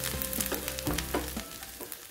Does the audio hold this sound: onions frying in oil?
yes